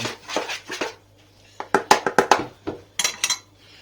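A spatula or spoon stirs ingredients in a bowl while making soft bread at home, giving sharp clinks and scrapes of utensil against the bowl, first in a few scattered knocks, then in quick rhythmic bursts, close up.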